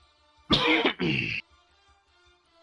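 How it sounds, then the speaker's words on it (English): A man's cough followed by a rough throat clearing, two loud close bursts in an otherwise quiet room. "just a little cough. A little tickle in my throat."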